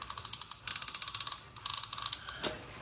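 A rapid series of small mechanical clicks from a Cuisinart stick blender's speed dial being turned, two quick bursts of ratcheting ticks separated by a brief pause, close and crisp.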